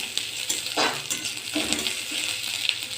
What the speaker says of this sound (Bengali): এভাবে পেঁয়াজটা লাল লাল করে ভেজে নেব